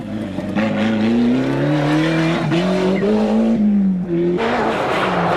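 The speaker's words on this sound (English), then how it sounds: "who overdoes the handbrake a little at Brandywell Cottage" A 1991 rally car overdoes the handbrake at Brandywell Cottage on the Manx International Rally, its engine droning loudly while the tyres squeal through a long skid, ending in a brief revving burst.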